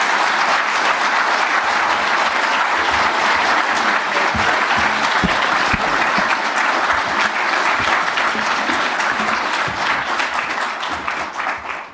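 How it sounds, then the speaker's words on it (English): Warm audience applause greets President Ferdinand Marcos as he is welcomed to the stage during a Washington visit, a loud, dense and steady wash of many hands clapping that tapers slightly at the end. "with your very warm applause, would you please welcome to the stage President Ferdinand Marcos"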